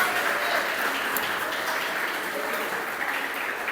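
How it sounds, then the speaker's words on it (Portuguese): A church congregation applauding in praise, a continuous, even roar of many hands clapping that fills the room at steady loudness. "Você pode aplaudir ao Senhor?"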